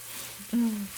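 Sausage seasoned with fennel seed and red pepper fries in a pan on a stovetop, giving a soft steady sizzle with a brief louder stir or scrape partway through, close and without talk.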